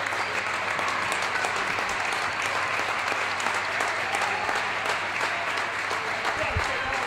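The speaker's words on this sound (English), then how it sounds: "a very respectful applause from the crowd" A varsity playoff basketball crowd at Southeastern vs. Carver applauds as a player checks out late in the game, producing steady, dense clapping that holds evenly for the whole stretch.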